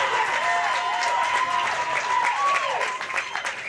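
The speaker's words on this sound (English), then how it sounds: "This crowd is getting louder and louder with every strike these kids are shooting." A loud, sustained crowd roar fills a bowling arena at a high school boys' state finals, cheering continuously at full strength before easing slightly near the end, with scattered shouts and whistles mixed in.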